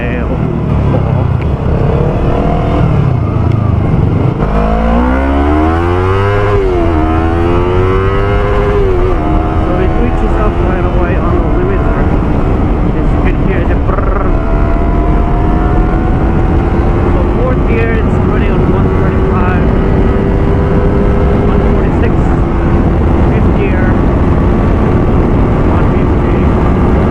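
A Yamaha R3 motorcycle accelerating in a speed test, its engine pitch climbing through several gear changes into a long, sustained high whine with wind noise, loud and continuous, while a voice talks over it.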